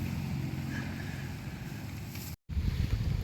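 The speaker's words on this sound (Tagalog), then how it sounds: "Tapos pabugso-bugso yung hangin, lakas." Strong, gusty wind blowing across a rainy campsite, a steady low roar with buffeting rushes close to the microphone, broken by a brief dropout before the gusts return louder.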